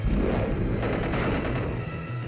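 A Rock Tomb attack in Pokemon Moon lands as a dense, loud rumbling crash of tumbling rock impacts, continuous for about two seconds before easing slightly.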